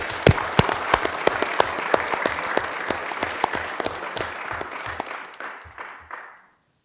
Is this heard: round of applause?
yes